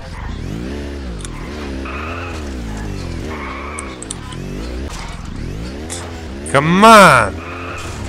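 A car driving in the Just Cause 2 video game, a steady engine drone rising and falling in pitch before a sharp, loud tire skid near the end, with someone talking over the driving.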